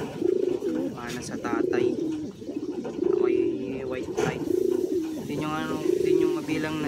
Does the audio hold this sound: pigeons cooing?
yes